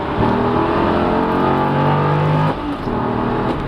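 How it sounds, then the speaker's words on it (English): A Chevrolet Corvette C6 coupe's engine roars as it accelerates hard, the pitch climbing steadily before a brief dip at a gear change and another surge. "Spectacular acceleration."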